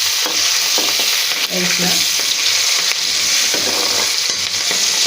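Onions and green chillies fry in a pan for a gokarkaya curry, giving a loud, continuous sizzle and crackle with occasional stirring clatter. A voice speaks briefly over the frying.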